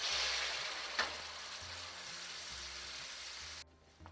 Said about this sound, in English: now that the Kashmiri Mirch has had its 2 minutes of frying